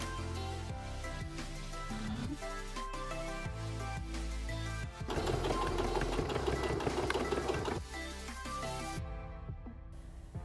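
A sewing machine straight-stitching the ends of two fabric hat band pieces placed right sides together, running steadily and fairly quietly for about nine seconds under background music before stopping abruptly.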